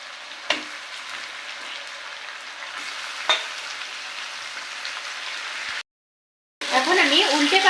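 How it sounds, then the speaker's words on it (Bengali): Chicken pieces sizzle steadily in a pan with fried onions and chillies, a dense crackling hiss with a couple of sharp clinks from stirring, a brief gap of silence, then louder bubbling spatter near the end. "এখন আমি উল্টে পাল্টে চিকেনগুলোকে কিছুক্ষণ ভেজে নেব"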